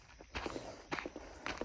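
Footsteps on a road beside a snake, several distinct thudding steps at close range in an uneven walking rhythm, each one crunching faintly, with no talking.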